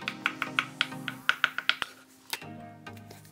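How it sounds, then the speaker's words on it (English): A knife chops vegetables finely on a cutting board for kimchi omurice: a quick run of about a dozen crisp, evenly spaced taps, a pause, then a few more, close and clear with no talk. "Chop it finely."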